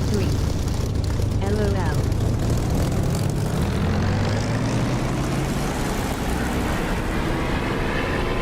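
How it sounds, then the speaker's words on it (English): A propeller aircraft engine throttling up in the DCS flight simulator game, a loud continuous drone rising in pitch as power builds, with a voice speaking briefly over it. "I'm going to throttle up fairly smartly"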